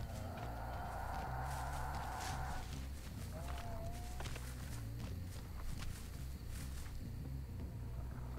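Footsteps cross the ground in the horror game Dead by Daylight, a steady run of soft thuds under game ambience and a faint tonal hum, with no talk over them.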